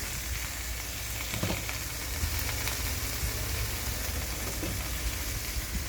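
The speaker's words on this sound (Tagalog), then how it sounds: "igigisa lang natin siya" Steady, close sizzling of food frying in a hot pan, a dense crackling hiss that continues evenly throughout with occasional faint clinks.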